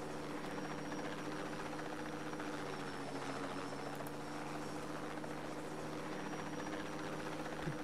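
Helicopter rotor and engine in the video game Just Cause 2, a steady loud drone with a constant buzzing hum and whine running unbroken throughout, no talking over it.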